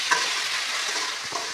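Ivy gourd (kovakkai) stirred in hot oil after salt goes in, a continuous bright sizzle with a couple of light utensil taps, close and without voices.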